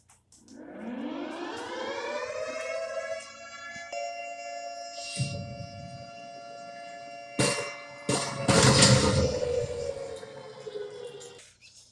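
A civil defense siren in an animated train story winds up from low to a high sustained wail, broken by several sharp bursts of crashing noise toward the end before it cuts off.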